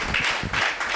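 An audience at a talk on meditation and the mind claps together in a brief, fairly loud burst of mixed handclaps lasting about a second.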